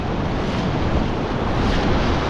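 Ocean surf at Phillip Island washes in a steady, loud roar of broadband rushing water with heavy low rumble and wind buffeting the microphone, continuous and close with no voices.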